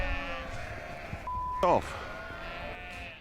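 A sheep bleats once on a farm, a loud wavering cry close by, with people talking before and after it.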